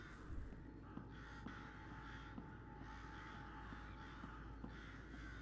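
Crows caw repeatedly inside the psychological horror game Rise Of Insanity, a steady spread of harsh calls over a constant low ambient drone, with no voices.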